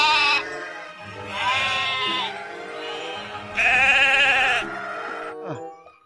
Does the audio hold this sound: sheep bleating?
yes